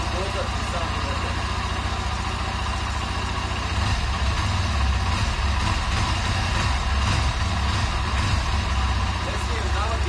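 A repaired quad bike engine idles steadily after damage to the motor, its low, even chugging running continuously up close and growing slightly heavier partway through, with no talk.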